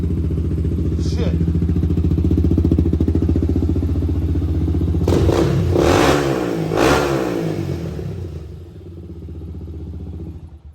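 A Honda ATC three-wheeler on a 350X frame with a 400EX big bore engine revs loudly and steadily up close, dropping and rising again in a few surges toward the end, with some voices mixed in.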